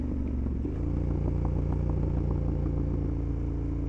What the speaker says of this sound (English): I really like this exhaust